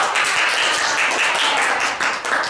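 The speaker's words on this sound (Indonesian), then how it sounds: "Tepuk tangan dong." Students in a classroom clapping together in a dense, steady burst of applause that fills the room, with a faint voice briefly underneath.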